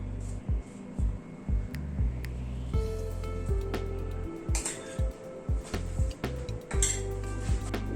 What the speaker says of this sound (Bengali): পুরটাকে একটা বাটিতে ঢেলে নিচ্ছি।